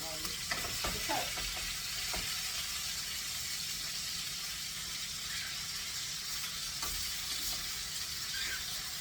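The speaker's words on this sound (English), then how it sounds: "I'm putting the meat back in now. I had the last few pieces in there browning" Pieces of lamb brown in a hot pan with a constant soft sizzle and a few scraping stirs near the start, heard close by and fairly quiet.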